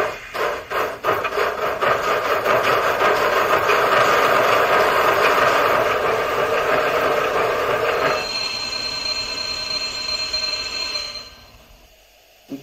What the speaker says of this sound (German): Zunächst das Bremsen als ganzer Zug.